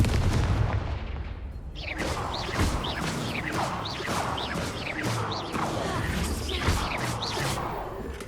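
Repeated fiery Confringo blasting curses burst in a Hogwarts Legacy battle, a rapid run of sharp explosive cracks and whooshes with loud, dense impacts about every half second over rumbling background.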